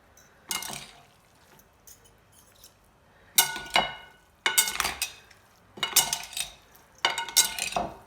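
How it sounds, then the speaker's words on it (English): Tuna, mango salsa and sesame broccoli noodles being mixed together in a bowl, giving five bursts of clinking and scraping utensil sounds spaced irregularly, close and fairly loud, with quiet pauses between. "And you just mix that together."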